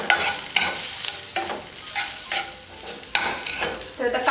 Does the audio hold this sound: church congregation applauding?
no